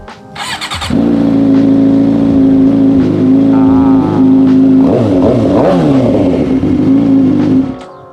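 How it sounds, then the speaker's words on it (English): A Suzuki GSX-R600 sport motorcycle cranks and fires up, then idles loudly and steadily up close, with a few quick throttle blips that rise and fall before the engine cuts off near the end. "Give it a little startup just for fun."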